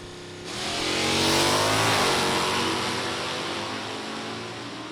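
Drag racers launching at an NHRA Sportsnationals meet, a Pontiac 389 against a 1966 Chevy II 283, engines roaring loudly from the line and holding a sustained, rising wail before easing slightly as they pull away.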